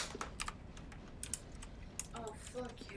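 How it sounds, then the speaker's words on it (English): A cat pressing computer keyboard keys, a few soft, irregular key clicks and taps in a quiet room, faint and scattered over low background hiss. "Zeus, I love you, but you're touching my keyboard."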